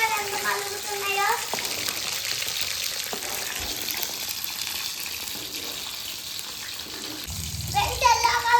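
Garden brinjals sizzle in hot oil in a pan, a steady crackling hiss with occasional stirring clatter and splashes, under someone talking and a voice.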